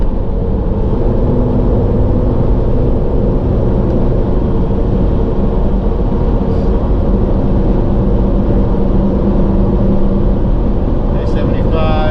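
A Toyota Sequoia with re-geared 5.29 axles accelerating on the road toward 75 mph, a constant heavy cabin drone of engine and road rumble, loud and unbroken throughout.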